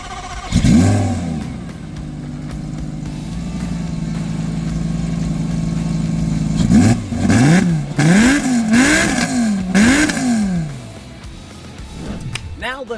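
A salvage Lamborghini Gallardo engine on its factory exhaust settles into a steady idle, then is revved hard in four or five quick, loud blips before dropping back down.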